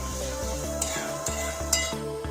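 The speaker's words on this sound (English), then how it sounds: "we are going to saute the onions till they are nice" Sliced medium-sized onions sauté in a pan for a paneer tikka biryani, giving a steady close sizzle with a few sharp scrapes of a spoon or spatula against the pan.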